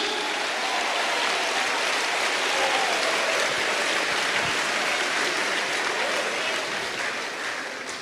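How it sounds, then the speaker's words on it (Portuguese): Sustained applause from a church congregation at a Christian gathering in Rio de Janeiro, a dense, steady wash of many hands clapping that stays loud throughout and eases slightly at the end. "Let's give God a round of applause."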